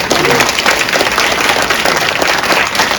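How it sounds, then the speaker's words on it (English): Loud, close applause from an audience thanking doctors at an event, with dense continuous clapping over a murmuring crowd. "Let's give them a big round of applause."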